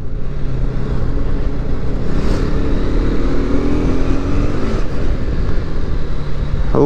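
A KTM Adventure 250 motorcycle engine drones steadily while riding, a loud continuous hum with wind rush and slight shifts in pitch as it revs.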